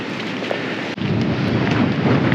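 Strong gusting wind in Whitby, Yorkshire buffets the microphone with a constant roaring rush, broken briefly by a sharp dip before the blustering resumes.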